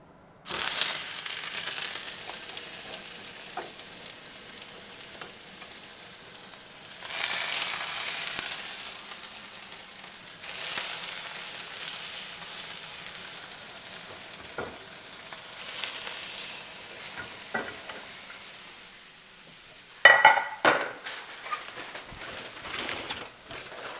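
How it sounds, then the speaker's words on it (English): Boneless skinless chicken breast fillets frying in smoking-hot oil, crackling steadily with several loud bursts of sizzle as pieces go into the pan, nearby and with no talk. "The oil is smoking, so I know it's good and hot. Start putting the fillets on."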